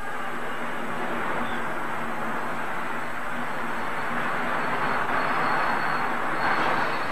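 Steady rumble and rattle of a passenger train riding toward Cologne, a continuous dense rolling drone with a faint tonal hum, moderately loud and unbroken throughout with no voices.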